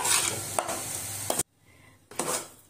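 A spoon scrapes and stirs cooked dal with jaggery in a pan while it sizzles softly, in two close strokes separated by a brief pause, with no voices.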